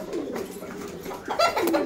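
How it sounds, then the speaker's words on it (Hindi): Soft pigeon cooing nearby, low throaty calls repeating, with a brighter burst of coos toward the end. "यार अजीब अजीब कबूतर है, बाहर से कबूतर आते हैं खाने के लिए"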